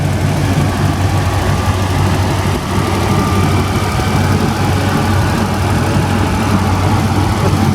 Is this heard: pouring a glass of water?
no